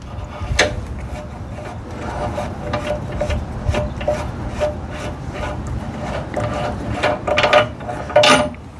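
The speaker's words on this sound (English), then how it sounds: "So now my ball joint's disassembled" Metal parts of a car's lower ball joint scrape, rub and clunk as it is taken apart by hand, with irregular nearby handling noises and a few sharper knocks over a steady background.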